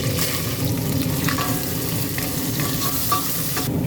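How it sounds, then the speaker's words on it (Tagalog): Onion, garlic and ginger sizzle in a cooking pot at close range, with steady frying crackle and intermittent stirring scrapes; no talking. "ilalagay natin itong ating onion, garlic, at saka ginger"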